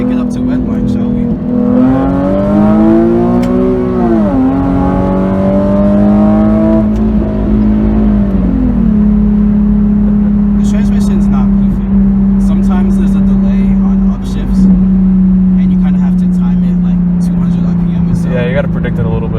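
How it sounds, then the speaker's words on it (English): A modified 2011 Infiniti G37xS coupe's engine revs loud and close, the pitch climbing toward redline and falling back, then holding a steady drone, with a person talking over it. "Let's take it up to red line, shall we?"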